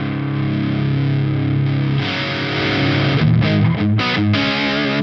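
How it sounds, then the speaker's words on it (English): Electric guitar played through a Marshall Silver Jubilee 2555X amp on the clean channel pushed into overdrive, a sustained distorted chord followed by crunchy chopped strums, loud and alone. "so you can get quite a bit of distortion overdrive from the clean channel."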